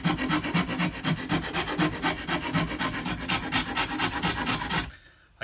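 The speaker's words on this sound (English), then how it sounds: "filing." A coarse rasp files the wooden neck of a cigar box guitar in fast, even back-and-forth strokes, a rhythmic scraping close by that stops abruptly near the end.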